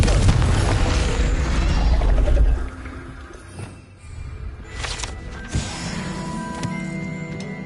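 A Confringo blasting spell in Hogwarts Legacy, aimed at an old telescope, lets out a heavy rumbling boom that fades, followed by scattered magical chimes and clinks.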